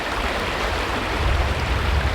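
Mountain stream water rushing steadily, a broad close wash of flowing water on a hillside hiking trail where a water bottle is topped up, continuous with no talk.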